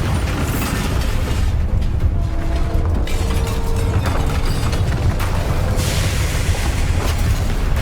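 The Bombarda exploding spell from Hogwarts Legacy bursts with loud booming blasts over a thick, constant backdrop of magical combat noise, with a bright flare of sound near the end.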